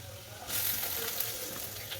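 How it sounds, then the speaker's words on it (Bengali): Carrot and capsicum fry in a pan, a bright steady sizzle that swells loudly as the capsicum is added, then continues hissing with faint stirring and no talking. "গাজর তো মোটামুটি ভাজা হয়ে গেছে, এবার আমি দিয়ে দিচ্ছি ক্যাপসিকাম"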